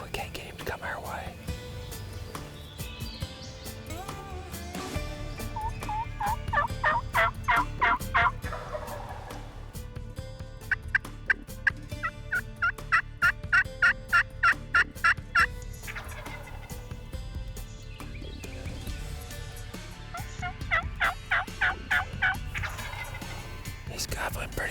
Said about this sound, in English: We hear a bird gobbling